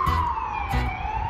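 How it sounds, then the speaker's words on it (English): An ambulance siren wails, sweeping steadily up and down, clear and fairly close, with low traffic rumble beneath it, near a medical university in Gdańsk, Poland. "you'll hear a lot of ambulances"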